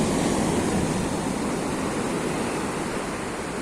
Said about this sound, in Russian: И вот такие огромные волны.